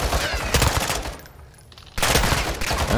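Dense bursts of automatic gunfire in Call of Duty: Modern Warfare 2, loud and close, rattling in two heavy stretches separated by a brief quieter gap.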